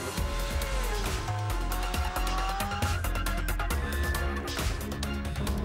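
A Subaru at full throttle on the Isle of Man mountain course: a loud, continuous engine roar with rising and falling pitch as it shifts, dense road and wind noise filling the whole stretch.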